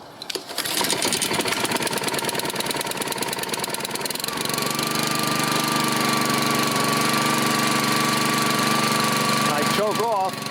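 A Honda HRX 217 lawn mower engine starts and runs steadily at close range, a loud continuous drone that settles into an even idle after a rough start, with no talk over it.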